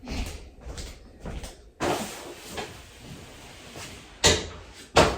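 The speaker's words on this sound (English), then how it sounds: "Should I shut that door?" A door is shut in a room during a podcast recording, heard as several close handling knocks followed by a louder thud, then two sharp bangs near the end.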